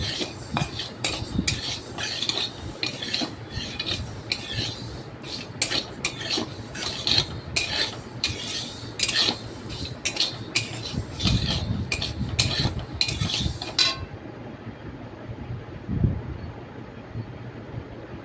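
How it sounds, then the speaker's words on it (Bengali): Dal fried in a kadai on a home stove, with a steady metal-on-metal stirring scrape and clinks repeating close up for about fourteen seconds before the sound drops to quiet background. "আর এখানে ডাল ভাজা হচ্ছে"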